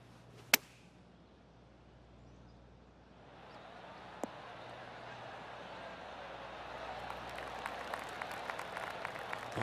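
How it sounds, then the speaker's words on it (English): Polite golf clap from spectators at the New Orleans Classic tournament: a sharp crack, a quiet pause, then scattered distant clapping that swells gradually and keeps building to the end. "Oh, golf clap."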